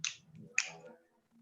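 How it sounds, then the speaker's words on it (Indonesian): Two crisp finger snaps from a group joining a children's action song during a classroom teaching practice session, sharp and close, followed by a quiet pause and faint low voices. "Kalau kau suka hati petik jari."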